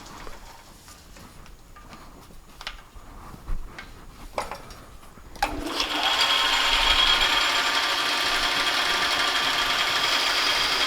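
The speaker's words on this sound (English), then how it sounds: "I'm going to slow the feed down and speed the lathe up." A metal lathe speeds up with its feed slowed, first scattered clicks and taps, then a sudden steady high whining hum of the machine cutting that continues evenly, close by.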